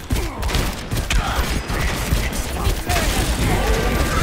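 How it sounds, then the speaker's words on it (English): Rapid bursts of gunfire from the video game Overwatch crackle continuously in a dense, loud mechanical stream, shots fired at a small hamster-like character amid busy game effects. "I can shoot him."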